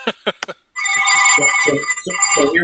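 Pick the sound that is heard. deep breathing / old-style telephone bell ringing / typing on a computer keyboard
old-style telephone bell ringing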